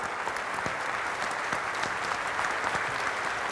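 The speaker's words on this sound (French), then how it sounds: "sous vos applaudissements, bien sûr, mesdames et messieurs" Dense, steady applause from an audience at a ceremony, many hands clapping continuously and fairly close, with no voices rising above it.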